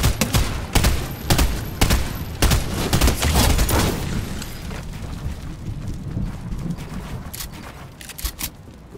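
Rapid assault rifle fire in Fortnite, loud sharp bursts of shots crackling in quick succession, thinning into scattered distant pops toward the end, with no talking.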